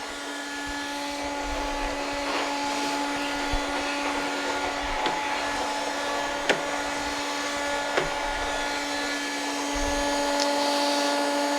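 A Roboclean vacuum shampooer floor washer runs steadily with a loud whine, a sustained tonal hum and motor drone, with a few small clicks and knocks over nearly twelve seconds.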